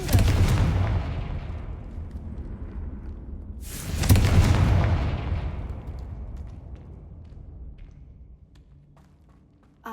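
Confringo fire spell blasts in Hogwarts Legacy, two loud booming explosions about four seconds apart, each with a long decaying rumble, no talking.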